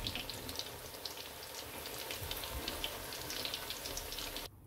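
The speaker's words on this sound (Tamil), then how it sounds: "பொரிஞ்சின்னு இருக்கு நெத்தலி மீன் வடை" Small anchovy fish vadas deep-frying in hot oil, giving a steady, close bubbling crackle with bright spitting pops throughout, cutting off abruptly near the end.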